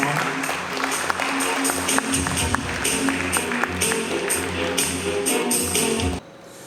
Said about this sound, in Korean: 여러분 따뜻한 박수로 함께 해주시기 바랍니다